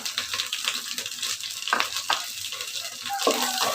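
Whole spices, cardamom pods, cloves, cinnamon sticks and bay leaves, frying with onion in hot oil for chicken biryani, a continuous crackling sizzle with a few stirring scrapes, close and steady.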